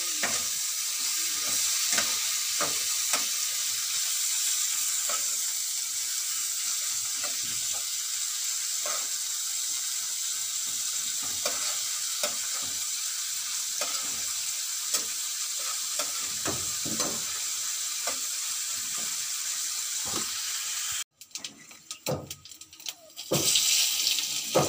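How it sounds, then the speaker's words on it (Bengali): Fish frying steadily in a pan, a dense continuous sizzle with scattered stirring clicks throughout, louder bursts near the end. "মাছটা একটু ভালো করে ভেজে নেব।"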